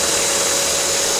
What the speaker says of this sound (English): My little blower is engaged there.